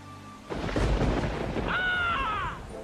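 A heavy thunder rumble builds suddenly and rolls on loudly for about two seconds, with a high tonal cry rising over it near the end before it fades.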